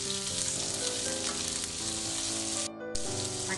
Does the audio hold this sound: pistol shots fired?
no